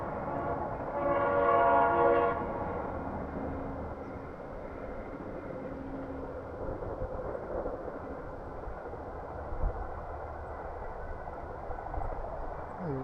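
A train passes about 300 meters away near a park, its horn sounding briefly at the start before a steady rumble of rolling cars continues at a distance.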